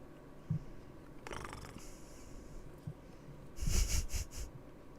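A house cat named Raleigh purrs and breathes softly close by, a quiet low rumble with a few small snorts and a brief rustle near the end.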